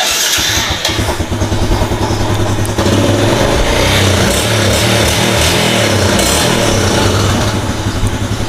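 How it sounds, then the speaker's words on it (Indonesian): A Yamaha Jupiter Z1 motorcycle's engine turns over and settles into a steady, smooth idle, a loud continuous mechanical hum with no rough knocking. "mesin halus di sini, nggak ada suara kasar atau apa, langsung halus klenyem-klenyem ya"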